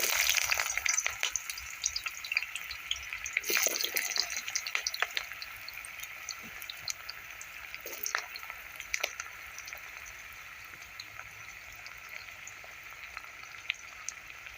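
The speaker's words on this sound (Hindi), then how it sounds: "इस तरह प्याज डालने के बाद अब इसे बीच बीच में चलाते हुए हम इस प्याज को तब तक फ्राई करेंगे" Onions sizzle and crackle in hot oil left from frying dried red chillies, with garlic in the pan, while a spoon stirs and scrapes now and then; the frying is loud at first and eases to a softer, steady hiss.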